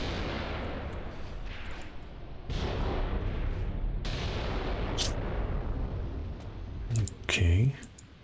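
Distant gunfire and booming reports in the war game Graviteam Tactics: Predators in the Mist 2, with sharp onsets near 2.5 and 4 seconds over a steady rumble of battle, a louder burst near the end, and a voice speaking throughout.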